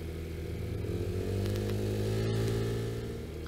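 A scooter engine labours up a hill, a steady droning buzz that rises slightly in pitch and strain, heard fairly close and alone with no talk.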